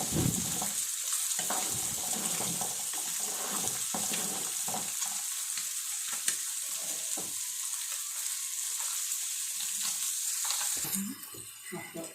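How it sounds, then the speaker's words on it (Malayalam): Curry bubbling at a boil in a pot, a fairly quiet, steady simmering hiss with a short clatter near the end. "കറി നല്ലപോലെ തിളച്ച് തുടങ്ങിയിട്ടുണ്ട്."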